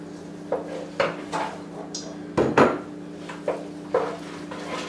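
A spoon or utensil clinks and scrapes against a pot while stirring a thick spinach and artichoke mac and cheese mixture with chopped artichoke hearts and thawed spinach, in a series of short, fairly close, evenly spaced knocks.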